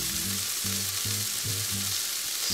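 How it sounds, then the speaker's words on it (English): Flours being mixed into pasta dough in a bowl, a soft steady hiss under repeated low periodic scraping strokes, close and even, with no voices. "I'm going to start mixing in the flours"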